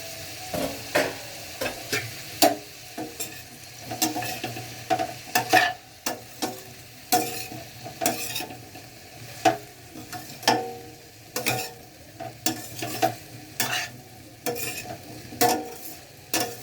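Cauliflower sabzi cooking on low heat in a pan is stirred after being uncovered, making repeated close scraping and clacking spoon strokes in an uneven rhythm over a soft background sizzle, with no talking.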